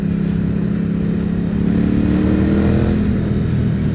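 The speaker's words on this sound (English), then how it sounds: "And it takes off, opening the throttle." A 2008 Ducati Hypermotard 1100S with its air-cooled two-valve engine pulls away as the throttle opens, the loud, close exhaust note climbing steadily in pitch from low revs toward high revs over a few seconds.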